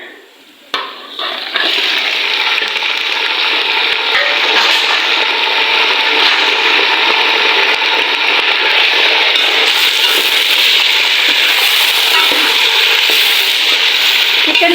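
Chicken pieces fry in a pan with golden-browned onions, giving a loud, steady, broadband sizzle that starts abruptly and holds evenly throughout, with a few faint scrapes and no talking.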